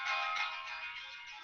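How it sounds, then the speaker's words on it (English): A phone rings with a steady electronic tone, fairly faint and alone, fading slightly toward the end. "Sorry, that's my phone."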